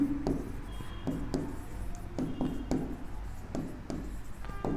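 Pen or chalk scratches in short repeated strokes with small taps between them, close and fairly loud, while answers are written on a board during a class 9 maths lesson on triangles.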